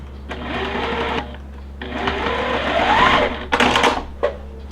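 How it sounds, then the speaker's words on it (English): Sewing machine stitching quilt block pieces for a star block, running in close bursts of rapid mechanical whirring with short pauses between them. "And we're going to sew this other one."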